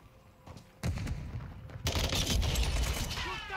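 Rapid automatic fire from an FSS Hurricane submachine gun in Modern Warfare 2, rising in loudness as a dense burst of shots begins mid-clip and continues with battlefield noise.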